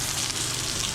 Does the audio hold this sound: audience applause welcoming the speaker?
no